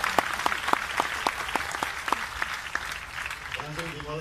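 A crowd at a live Islamic preaching and music gathering in Kudus claps in a regular rhythmic beat for several seconds, a voice speaking over it, before the clapping fades into the start of music.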